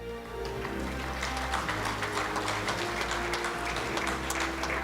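Applause for the ladies at a rugby union awards evening, a sustained crowd clapping over a low steady hum from the hall's sound system.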